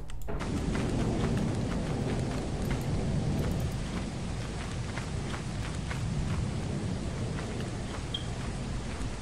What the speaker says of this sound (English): The storm's really bad.